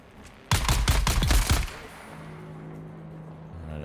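Rapid burst of gunfire in the survival video game Dune, several close, loud shots fired in quick succession, then a low steady hum.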